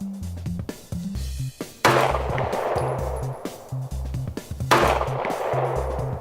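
Colt 1911 competition pistol firing on a range: two sharp, loud gunshots about three seconds apart, each with a long ringing decay, over a busy background of other shots and range noise.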